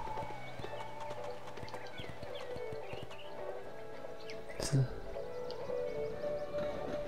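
Rhythmic clip-clop of horse hooves on a hard surface in the Wii game Go Vacation, steady and close, with a brief louder thump midway.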